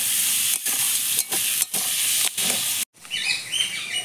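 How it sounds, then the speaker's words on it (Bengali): Chopped onions, four of them, frying in oil left over from frying salted hilsa fish, give a steady loud sizzle with brief dips, then a sharp cut and quieter crackle with stirring. "এই তেলেতেই আমি 4টে পেঁয়াজ কেটে নিয়েছি, সেই পেঁয়াজটা এই তেলেতেই দিয়ে দেবো।"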